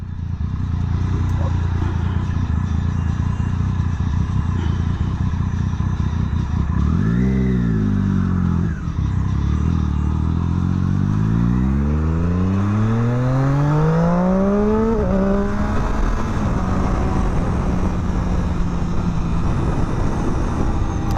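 Motorcycle pulling away on a commute, its engine droning steadily, then climbing through several rising revs as it accelerates and shifts, loud and close with constant wind rumble.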